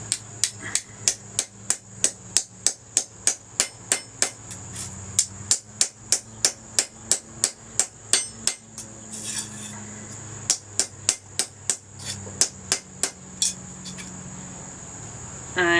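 A hammer striking a copper bracelet to flatten it, a fast run of sharp metallic blows in a steady rhythm, close and loud, pausing briefly midway before resuming.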